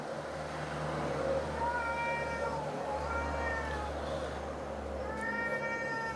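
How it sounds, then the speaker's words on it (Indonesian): A cat meows three times, drawn-out and plaintive, over a steady low hum of traffic, recorded on a Hollyland Lark M1 wireless lavalier microphone. "Ada suara kucing."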